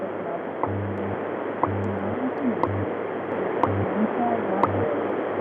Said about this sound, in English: So there's your AM signal.